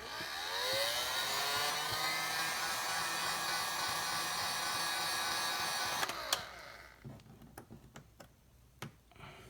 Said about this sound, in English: we're going to heat up this area very gently with the heat gun